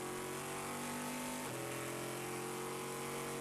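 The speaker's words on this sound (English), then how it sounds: "that big V8 hammering down the straightaways through the corners around here" A V8 race car engine at the Le Mans 24 Hours roars loudly and steadily on the track, holding a high pitch and then dropping as it shifts or passes partway through.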